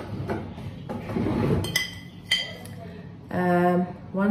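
A spoon clinks against a cup while coffee is made in a kitchen, a few sharp metallic taps spaced between moments of someone talking nearby.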